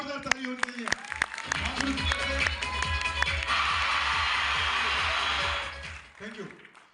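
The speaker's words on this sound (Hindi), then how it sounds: "उनके लिए मैं चाहूंगा जोरदार ताली होनी चाहिए" A crowd at a training gathering breaks into loud applause for a guest, building from scattered claps under a spoken voice into a dense, steady wash of clapping before fading out.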